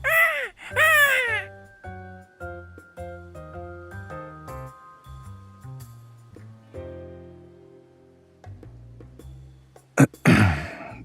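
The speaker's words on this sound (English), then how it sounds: "This parrot has an injured wing." A parrot in the video game Love and Deepspace gives a couple of loud, harsh squawks at the very start, then again near the end, with soft musical tones filling the quiet stretch between the calls.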